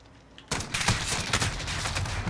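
A Dragunov sniper rifle fires in a video game: after a brief quiet start, loud, close shots crack in quick succession and blur into a sustained barrage of gunfire.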